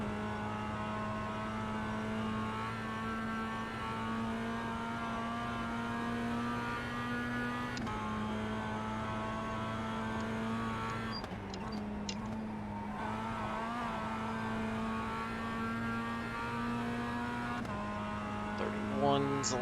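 Production race car engine in the iRacing sim at Oulton, a steady droning whine with stable harmonic tones that dip and shift briefly through gear changes, with a short burst of tyre or contact noise midway.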